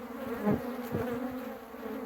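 Steady insect buzzing from a mass of honeybees around a newly split hive with a mated, laying queen, a continuous droning hum with a couple of brief swells as bees pass close.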